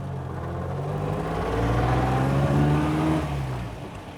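A 1954 MG TF sports car pulls away in first gear, its engine note rising steadily from a low rumble to a louder droning whir before easing off, close and with no voices.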